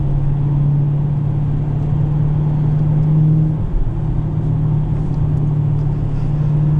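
A 2017 Dodge Challenger T/A 392 V8 pulls steadily under acceleration, a loud continuous engine hum heard from inside the car with a slight change in pitch midway.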